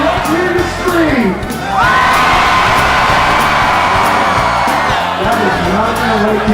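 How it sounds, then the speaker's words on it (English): A crowd at a Groundhog Day gathering screams, whoops and cheers loudly and continuously, a dense roar of many voices with some higher children's shrieks rising throughout. "And let's hear the scream."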